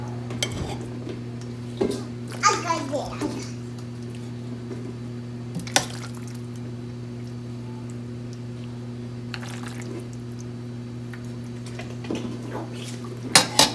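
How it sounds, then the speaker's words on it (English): Pasta being plated with dishes and utensils, scattered clinks and scrapes of cutlery against plates over a steady low appliance hum, with a few brief bursts of activity. "And now I am going to plate it up."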